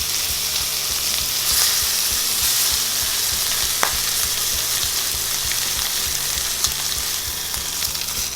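A rack of lamb sears in a hot pan, giving a loud, steady, close sizzle that crackles on without a break, with a couple of small clicks.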